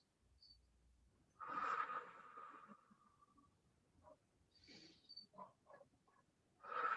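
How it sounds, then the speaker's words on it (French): Quiet, close breathing during a Pilates back stretch, with several separate breaths and soft exhalations spread over a mostly silent stretch of seven seconds. "On fait 3 respirations."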